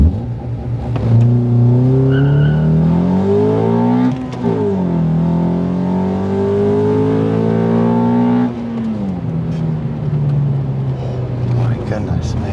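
A Honda Accord CL9 fitted with PLM headers accelerates hard from 0 to 100, its engine note climbing steadily through the revs with a brief drop at each gear change, loud and close throughout.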